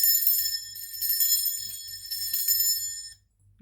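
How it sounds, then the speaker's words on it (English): A hand bell is rung steadily for about three seconds, a bright, sustained, shimmering ring with a faint pulsing rhythm from the shaking, then it stops and the sound cuts to near silence. "So I'm going to be ringing this bell."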